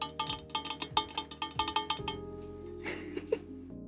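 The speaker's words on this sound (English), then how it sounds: "Metal nail tappy ASMR for you." Metal nails tap sharply on a hard desk object, a quick run of bright clinking taps for about two seconds, then a softer rustle and a few faint knocks, close and with no voices.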